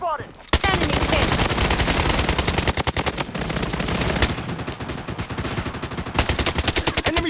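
Rapid automatic gunfire from the shooter game Blood Strike rattles loudly and almost continuously for seconds, with short pauses and a burst at the end, over game voice callouts.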